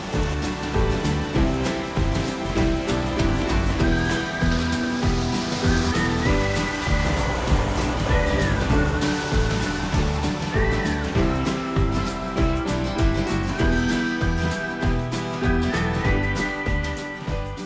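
Continuous rushing water at a river ford along a hiking route, a dense steady wash of flowing current with faint whistle-like tones and music running over it, without talk.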